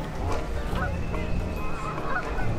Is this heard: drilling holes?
no